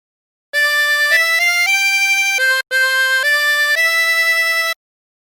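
Chromatic harmonica playing the melody of Hark The Herald Angels Sing: bright reedy sustained notes stepping up and down in a smooth line, with one brief breath gap midway, loud, close and alone.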